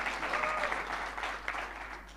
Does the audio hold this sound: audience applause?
yes